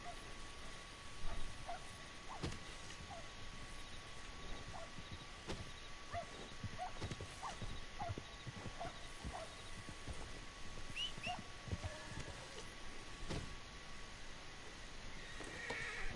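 A horse in the video game Red Dead Redemption 2 whinnies and neighs amid a sparse run of hoof clops, faint and fairly distant over a quiet ambient background, with no talk.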